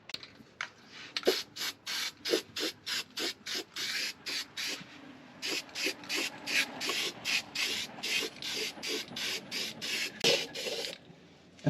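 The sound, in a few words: rubbing down rust on a 1981 Mazda 626, then spraying rust reformer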